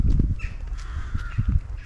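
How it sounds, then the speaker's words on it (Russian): Crows cawing near a racetrack in Požarevac, Serbia, several harsh calls in quick succession, close and loud over faint outdoor background. "Ну вот это точно вороны."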